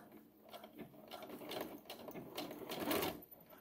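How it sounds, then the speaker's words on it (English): A domestic sewing machine back stitching at the start of a seam on pajama shorts, a steady close mechanical whirring and clatter of the needle mechanism running continuously without talk. "put your needle down with your hand wheel, and then it will back stitch at the beginning"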